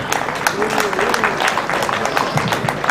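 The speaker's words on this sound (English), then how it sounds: "Let me get a clap." An audience claps and cheers at an opening address, a dense continuous wash of hands with a voice speaking over it.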